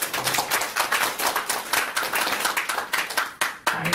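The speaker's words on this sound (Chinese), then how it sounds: "一个有魄力有决心的掌声，好不好？" Audience applause for a CEO at an Organo Gold business presentation: a dense, steady burst of many hands clapping together, fairly loud and sustained for several seconds with no talking over it.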